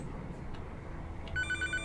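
A video game telephone starts ringing partway through, a bright electronic trill that enters abruptly over a low, steady background hum.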